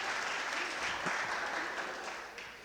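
A church audience claps in a dense, steady burst of applause that fades slightly toward the end, loud and close with no clear voices over it.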